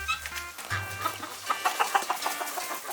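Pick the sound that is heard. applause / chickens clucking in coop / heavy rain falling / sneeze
chickens clucking in coop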